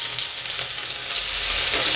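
Chopped onions fry steadily in hot oil in a pan for a papaya and moong dal dalma, a continuous close sizzle with light stirring, no voices.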